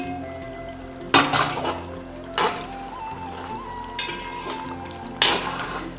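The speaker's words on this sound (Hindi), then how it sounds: "10-15 मिनट हो गए अपने कौरमे को भूनते हुए" Chicken qorma with onions frying in a pot, a steady sizzle with several sharp scraping bursts as the spoon stirs through the thick gravy, close and moderately loud.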